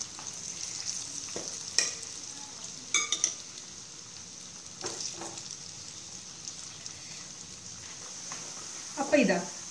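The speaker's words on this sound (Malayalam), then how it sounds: "ബാക്കിയുള്ള ബീഫും നമുക്ക് വറുത്ത് കോരിയെടുക്കാം ഈ എണ്ണയിലേക്ക് തന്നെ ഇട്ട്" Beef pieces frying in hot oil for beef chilli, a steady soft sizzle with a few louder spattering bursts and stirring clatters, while a person talks over the cooking.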